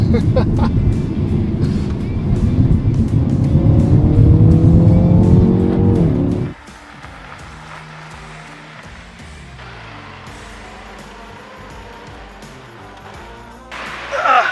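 BMW X2 M35i small SUV driving over bumpy back roads in Surrey: a loud, close engine note rises and shifts through gears, then drops to a quieter cruising rumble with tire and road noise before swelling again at the end.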